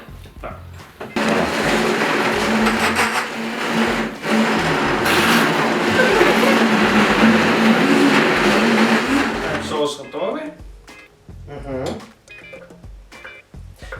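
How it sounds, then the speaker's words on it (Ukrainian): An electric kitchen blender whirs loudly for about nine seconds, mixing food for a dish with fried cheese, its steady motor drone wavering slightly before it stops and clattering handling noises follow. "Тоді я дістаю наш блендер і будемо це змішувати, так?"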